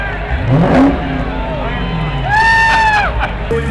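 A Dodge Hellcat revs hard in a burnout, its engine rising and falling in loud, close roars with rising pitch sweeps, while a crowd murmurs in the background.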